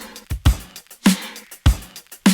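A short layered drum beat with deep kicks and bright snare hits, the snare run through 100% wet reverb that cuts off abruptly. Three strong hits fall about 0.6 seconds apart, with lighter hits between them.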